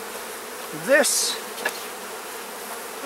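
Honey bees buzz around an opened hive during a hive split, a faint steady hum with one louder insect passing close, alongside a brief sharp scrape and a single spoken word.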